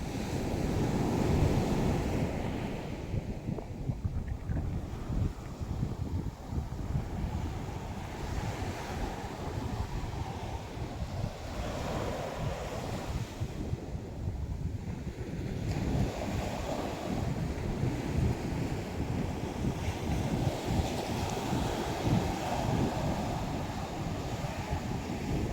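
Sea waves roll up onto the shore in a continuous rushing roar, with wind buffeting the microphone and surges swelling and easing every few seconds.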